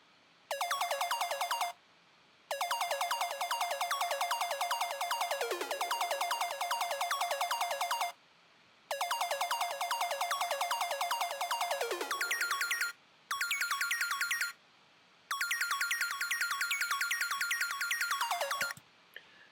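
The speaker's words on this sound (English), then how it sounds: "Next thing I have is this little arpeggiator" A future bass synth arpeggiator patch with EQ, auto pan and two sidechain compressors plays on its own: a rapid, bright pulsing pattern in several long runs separated by brief silences.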